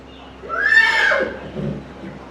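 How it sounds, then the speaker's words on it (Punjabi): A horse on a farm gives one loud, close neigh, a rising then falling whinny lasting about a second, followed by softer snorting sounds. "ਇਹ ਆ ਜੀ ਘੋੜਾ"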